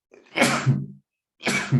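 Two sneezes in quick succession, close and loud, each a sharp burst with a breathy intake, separated by about half a second of silence during an English lesson in a classroom.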